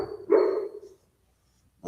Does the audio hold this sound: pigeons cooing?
no